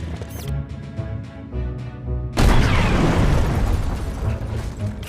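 Torpedoes fired in a space battle in the Treasure Planet video game, with a tonal rumbling buildup followed by a sudden loud explosion whose roaring blast sustains to the end.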